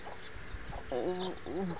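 A broody hen that had been set on eighteen or twenty eggs gives two short runs of throaty, wavering clucks, close by, over faint background noise with no talk.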